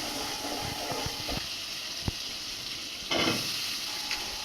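Chopped onion and chili, turmeric and spice powders crackle in hot seed oil for a dried-fish curry, a continuous close sizzle with scattered taps and a louder hissing burst near the end.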